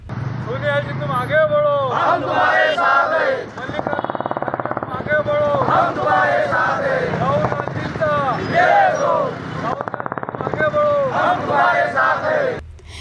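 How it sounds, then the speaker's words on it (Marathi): Congress party workers in Daryapur celebrate, with a loud crowd chanting and shouting slogans in rhythmic bursts. Rapid crackling strings of firecrackers break through in short volleys over the continuous roar of voices. "नारेबाजी फटाक्यांची आतिषबाजी आणि जल्लोषात कार्यक्रम पार पडला"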